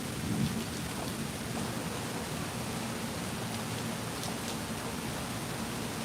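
Heavy rain pours steadily in a thunderstorm at a Disney park, a dense, constant wash of drumming water with low thunder rumbling beneath it and no voices.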